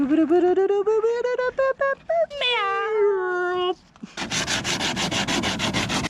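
A high, wavering whine gives way to steady rhythmic scraping strokes of sandpaper rubbed back and forth over a cracked car body kit panel, close and fairly loud.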